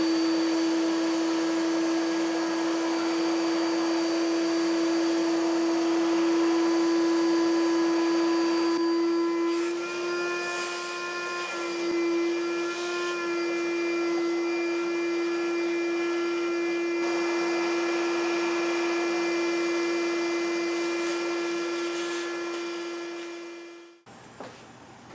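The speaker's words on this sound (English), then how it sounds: "this is a good opportunity to vacuum all of this crap out" A vacuum cleaner drones steadily and close by with a strong whining tone, its pitch wavering slightly as it sucks debris from a Hyundai 2.7L engine bay, then cuts off near the end.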